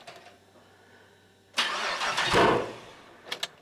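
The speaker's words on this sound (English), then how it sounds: "Backfire." A Celica GT-SS with a V8 swap cranks on a jump start, then the engine catches with a loud rough burst of combustion before fading, followed by two sharp backfire pops near the end, heard close up.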